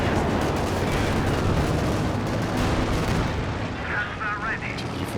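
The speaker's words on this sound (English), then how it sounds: "There's the Katyusha as well." Katyusha rocket artillery volleys in the real-time strategy game Company of Heroes 2, a dense continuous roar of launches and explosions, with a match commentator talking over the barrage.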